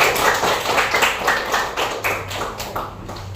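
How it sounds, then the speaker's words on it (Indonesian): A small classroom audience at a group presentation claps in quick, even rhythm for about three seconds, the claps close and crisp with no talk over them. "beri aplaus lagi"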